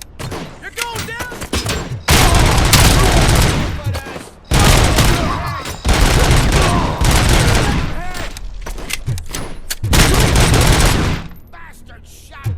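Rapid gunfire bursts from RoboCop: Rogue City, dense automatic fire in loud sustained volleys with short lulls and thuds, ending in a quieter tail.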